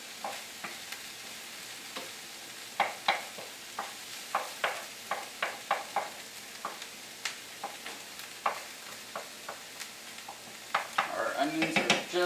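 Onions sautéing in a pan: a soft, steady sizzle under a run of distinct utensil clicks and scrapes against the pan, quickening into a busier clatter of stirring at the end.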